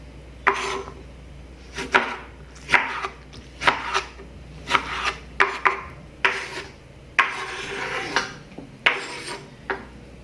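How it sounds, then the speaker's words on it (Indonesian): A knife cutting thick tomato slices on a board, about a dozen distinct sharp chopping knocks at an uneven, unhurried pace, close and clear with no talk. "Dan untuk tomatnya akan saya iris agak tebal ya."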